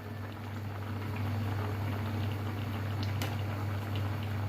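A pot of drumstick (moringa) leaves and ivy gourd leaves with green chilli simmering together, giving a steady low bubbling and gentle watery patter, close and continuous, with no voices.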